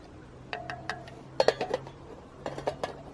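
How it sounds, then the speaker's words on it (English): A spoon stirring tea in a cup rings out in two clusters of light, bright clinks, fairly faint and close, with quiet pauses between the taps. "Take our tea, give it a little stir"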